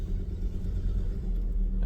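Car engine rumbling as a vehicle pulls into Well 16 on the Canning Stock Route in the desert, a steady low drone heard close and continuous, with no voices.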